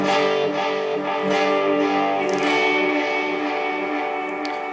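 Electric guitar notes ringing through a Boss RE-20 Space Echo tape-style echo with a touch of gritty overdrive, repeats smearing together into a sustained, wavering wash.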